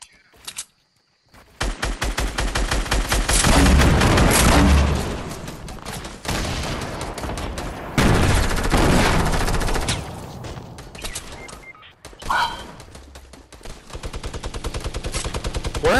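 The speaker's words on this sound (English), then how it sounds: "We could just open fire right now." Dense, loud video-game gunfire from Fortnite comes in sustained rapid bursts like a machine gun, with short pauses, a break, then fresh volleys. A few faint voices can be heard beneath the shooting.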